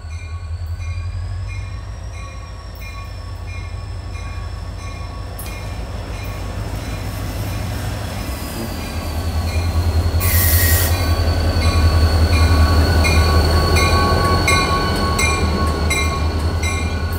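A freight train rolls past a railroad crossing, its wheels squealing with long, high metallic tones over a loud, continuous rumble and rhythmic clatter that swells toward the end, heard close by with no voices.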